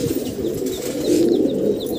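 Caged pigeons coo softly and steadily in a low, throaty murmur, with faint chirps from smaller birds nearby; no one speaks.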